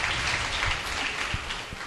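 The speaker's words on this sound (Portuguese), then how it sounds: "Vamos aplaudir então a Deus." A congregation of young worshippers at a church gathering applauding, steady dense clapping throughout a short moment, fairly close and even.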